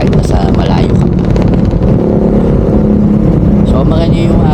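Loud, steady motorcycle exhaust note fitted with an Orion ARA muffler, a continuous low rumble that holds throughout without pause, close by and dominant, with traffic-like noise around it.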